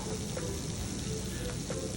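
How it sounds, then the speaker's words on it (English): A Sicilian-style pizza topped with marinara, pesto and vodka sauce sizzles just out of a home oven, giving a steady close crackling hiss with faint pops throughout. "It is out of the oven, it's sizzling, and it looks stunning."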